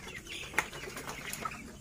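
Broiler chickens, 23 days old, inside a poultry house, producing a dense low murmur of the flock with a sudden burst of wing flapping partway through and scattered faint clucks, all fairly close.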